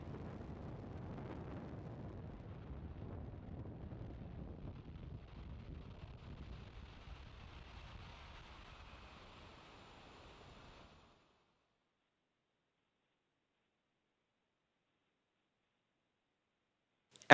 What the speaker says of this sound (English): Falcon 9 has successfully lifted off from Slick 4E at Vandenberg Space Force Base in California